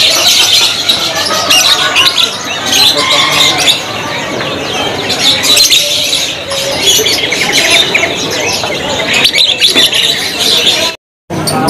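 Canaries sing loudly at a bird-selling kiosk, many birds trilling, chirping and squawking at once in a dense, continuous chorus close by, with occasional wing flutters and a brief cut to silence near the end.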